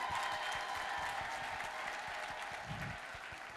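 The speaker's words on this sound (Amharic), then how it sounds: "ለኔ አይደለም ለጌታ ክብር አጨብጭቡ።" A congregation claps in dense, steady applause at a church gathering in Dire Dawa, continuous and moderately distant, with no voices over it.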